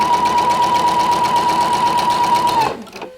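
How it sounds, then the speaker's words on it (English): A sewing machine stitches quilt pieces together at a quarter-inch seam, running in one steady, close whir before stopping abruptly near the end. "sewing at a 1/4 inch, matching those edges and sewing down"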